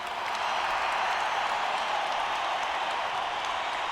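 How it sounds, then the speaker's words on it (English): An audience at a school assembly applauds in a steady, dense wash of clapping that holds at an even level throughout, with no voices over it. "How about another round of applause for Catherine Hershey Schools?"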